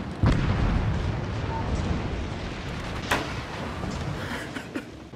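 A naval cannon fires in a ship combat video game during a sinking battle, a loud booming blast over a dense rumbling wash of battle noise, with a second sharp shot later.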